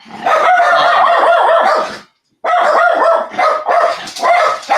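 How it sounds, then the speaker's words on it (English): Several dogs bark and howl in an excited, continuous, loud and close chorus, broken by a brief silent gap, then resuming with frantic yelps. "Sorry, my dog's going crazy."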